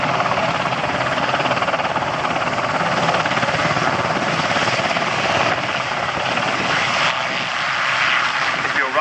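An RAF Sea King rescue helicopter at the RAF Cosford Air Show gives a loud, steady rotor thump and turbine roar throughout, close and continuous, with an announcer talking over it.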